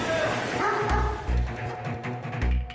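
Large adult dogs held in narrow metal cages at an illegal slaughterhouse bark and yelp in a confused chorus. The din sounds close and mixes with general commotion in the room.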